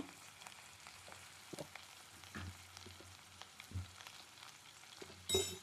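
Cumin seeds, pepper and a little fenugreek frying in oil for a Karnataka-style avarekalu huli saaru, a soft steady sizzle with occasional spoon scrapes and stirring knocks, ending in a louder clatter.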